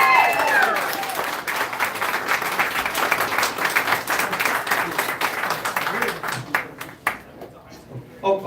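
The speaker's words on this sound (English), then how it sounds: "please give a round of applause to folks willing to stay to see the next President of the United States" An audience at a brewery livestream event for a presidential candidate breaks into a round of applause, lively clapping with a few cheers that holds steady for several seconds and then thins out into scattered claps.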